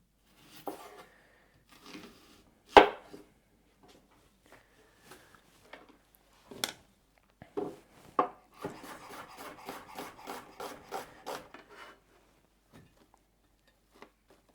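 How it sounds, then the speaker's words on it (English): Red onions sliced into half rings with a knife on a board, heard as scattered close cuts and then a fast even run of crisp chopping strokes before it trails off. "I have 2 red onions that I'll just cut into slices as well, half rings."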